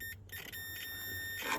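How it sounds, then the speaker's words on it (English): A steady, faint electronic beep sounds inside a 2007 Ford Territory, a sustained tone that cuts out briefly near the start and carries on over low cabin hum. "What's this beeping about?"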